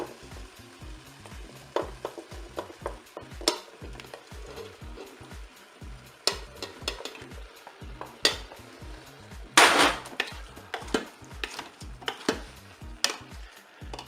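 Pepper strips, tomatoes, aubergines and courgettes cooking in a Cookeo multicooker, giving a soft sizzle with scattered stirring clatters and utensil knocks against the pot and a louder burst of frying midway.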